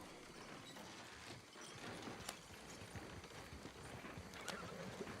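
Horse hooves clip-clopping in a western roleplay video game, a steady trotting rhythm at moderate distance with a brief whinny, no talk over it.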